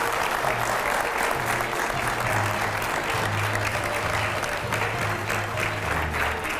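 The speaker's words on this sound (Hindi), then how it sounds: "मैं चाहूंगा जरा जोरदार तालियां हो पहले हमारे रैपिड फायर राउंड के लिए।" A studio audience at a televised political discussion breaks into loud, sustained applause, dense clapping that fills the room evenly from start to finish.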